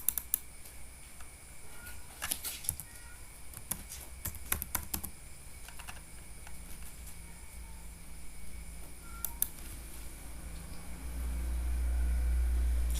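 Keys clatter in short bursts of typing on a computer keyboard, scattered taps spread across the span over a low steady hum, with no talking.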